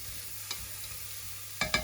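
Sweet corn, tomato and other vegetables sweating in a pan hiss softly and steadily while a utensil scrapes and stirs through them in a few brief strokes, close by with no talking.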